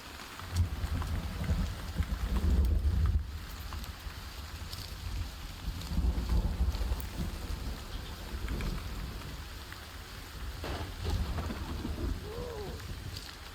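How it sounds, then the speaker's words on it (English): Rain and thunder in the video game Sons of the Forest: steady rain patters throughout while deep thunder rumbles swell and fade several times. "that's some good rain, isn't it?"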